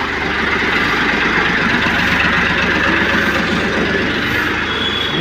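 A steady, loud tractor engine idles throughout, a continuous low rumble with mechanical clatter and no voices.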